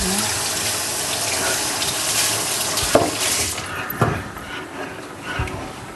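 Water runs steadily from a kitchen tap while a Kurdish stuffed dish and tomato soup are being cooked, a loud continuous splashing rush with a few clinks and knocks near the end and no voices.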